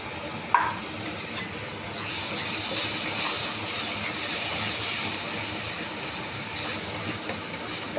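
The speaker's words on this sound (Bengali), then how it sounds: "এখন দিয়ে দেবো আদা, রসুন, কাঁচা লঙ্কা বাটা।" Ginger, garlic and green chili paste hits hot onion paste in a pan, giving a steady, even sizzle throughout, with one sharp utensil clink near the start.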